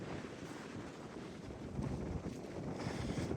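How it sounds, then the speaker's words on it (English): Gusty wind buffets the microphone outdoors on a walk, a continuous low rumbling roar that swells louder toward the end, with no talking. "Quite windy."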